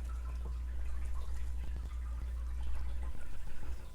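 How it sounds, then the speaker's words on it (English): Chopped vegetables tumbling into a large pot in a home kitchen while making chicken pot pie, a soft, continuous rustling patter with small wet clatters, close and steady for a few seconds with no talking. "pour my vegetables in."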